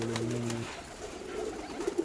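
Young pigeons coo in soft, low, throaty bursts close by, with a steady muffled background hum and a few faint wing or body rustles toward the end.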